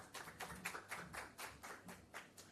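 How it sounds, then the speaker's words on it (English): Audience applause at a Jamaican Ministry of Health handover event on asthma management, a steady crowd of clapping hands with a fairly even patter throughout, moderately distant and quiet, with no one speaking over it. "give him a round of applause"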